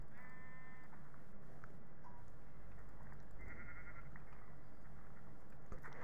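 Minecraft sheep bleat a couple of times, short nasal cries rising clearly above a constant low game hum, with no speech.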